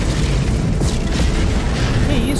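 Loud deep booms and rumbling blasts as spaceships drop out of warp in the No Man's Sky video game, a dense continuous roar over a short stretch with a faint rising whine near the end.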